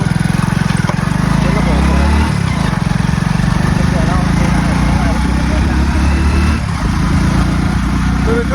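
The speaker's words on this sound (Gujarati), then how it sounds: "બાઇકમાં મિત્રો આપણે બાઇકમાં બેસી જાય છીએ અને હવે બાઇક જશે" A motorcycle engine drones steadily and close by throughout, heard from the bike as it rides out near the Sabarmati river at Dharoi, with people talking over it.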